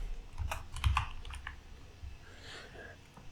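Computer keyboard typing while writing code for a full-stack web app, with quick irregular clicks of keys and a few heavier taps, close by, with no talk.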